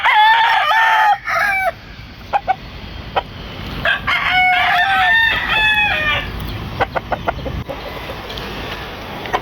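A young bullstag rooster from a backyard flock, sired by a Cecil Davis broodcock, crows in two clear bursts with clucks and short calls scattered between them. It sounds fairly close, with steady outdoor background noise and no talk over it.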